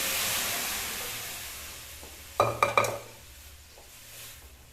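Tempering splutters in hot oil in a pan while cooking Andhra-style bottle gourd dal. A soft steady sizzle breaks into a short cluster of sharp crackling pops, then settles back to a quiet hiss.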